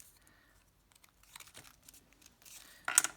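Junk mail paper is torn and frayed with a small craft tool, giving faint, irregular crinkling and rasping bursts that end in a louder, sharper rip.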